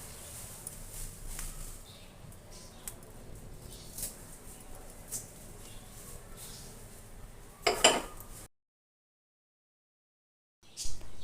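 Fried soybean chunks are pushed around a frying pan beside fried potatoes, giving scattered light clinks and scrapes of utensil against pan, with a louder clatter near the end before a brief silence.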